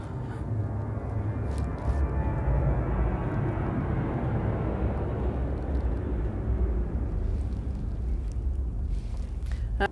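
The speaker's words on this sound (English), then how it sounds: "We're gonna wait for the plane." An airplane flies low overhead near an airport beside a painting studio, a loud broadband engine roar holding steady and filling the whole stretch without any talk.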